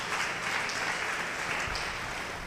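A church congregation claps loudly in a steady, even wash of applause. The sound stays constant from start to end with no pauses.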